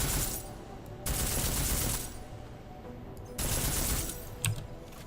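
Armor-piercing gunfire in Deus Ex: Mankind Divided, heard as two loud sustained bursts of rapid shots separated by quieter gaps, with a sharp single crack near the end.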